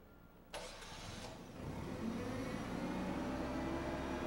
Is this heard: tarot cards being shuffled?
no